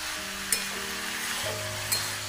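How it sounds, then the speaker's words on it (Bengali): Jackfruit curry with a split green chili sautés in a pan, a soft continuous sizzle broken by a couple of sharp spoon clinks against the pan, close and without talk. "বেশ কিছুক্ষণ ধরে এটা কষিয়ে নেব"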